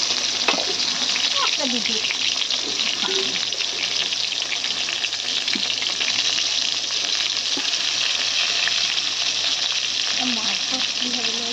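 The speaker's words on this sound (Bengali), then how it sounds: "এই দেখুন বেগুনগুলো একটু ভালো করে লাল লাল করে ভেজে নেবার" Brinjal slices fry in hot oil in a home kitchen, giving a steady, loud, continuous sizzle with crackling spits and occasional light stirring clatter throughout.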